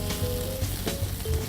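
Food sizzles steadily in a hot frying pan during home pan-frying for a Western-style New Year dish, a continuous close crackle with no speech.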